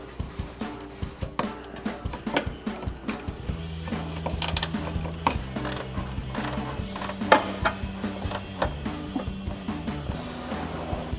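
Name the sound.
10mm ratcheting wrench tightening a headlight bolt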